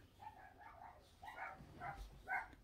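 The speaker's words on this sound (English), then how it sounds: "The dogs are going crazy now because I was just banging on the wall." Several dogs bark indoors at home, set off by banging on a wall: a string of quick, faint barks and yips that come one after another.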